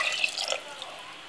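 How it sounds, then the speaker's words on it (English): Water pours from a cup into a pot of multi grain porridge, a short splashing rush that fades after about half a second into a faint trickle. "I am adding 1 more cup of water to this."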